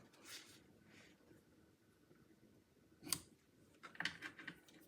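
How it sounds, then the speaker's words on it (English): Scissors snip a few times at close range in a quiet craft setting, two or three crisp cuts trimming paper ends on a handmade card. "And I'll trim up these ends."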